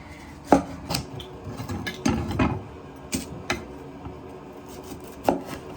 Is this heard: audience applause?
no